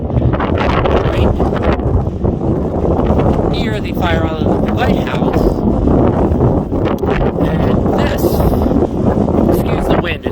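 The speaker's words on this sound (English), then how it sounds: "excuse the wind, is very, very windy out today." Strong, steady wind buffets the microphone at the beach near Fire Island Lighthouse, a loud continuous rumble running the whole time beneath someone talking.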